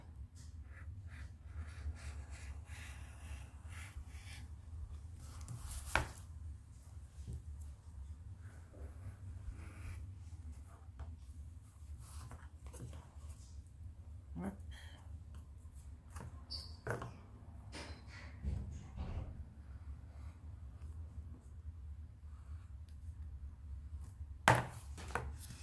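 Paper for a scrapbook photo album tag kit is cut by hand in a quiet room, with soft scattered snips and scraping strokes, a few sharper clicks and thumps standing out above a low background hum.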